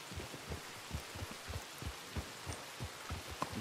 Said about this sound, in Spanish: Últimamente llueve mucho.